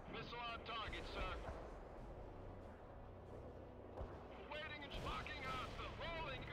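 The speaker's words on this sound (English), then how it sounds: "Missile fired! Missile on target, sir." A missile strike explodes in the real-time strategy game World in Conflict: Soviet Assault, a dull, heavy blast within continuous battle rumble and artillery thuds while radio voices talk over it.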